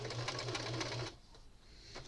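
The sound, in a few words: sewing machine running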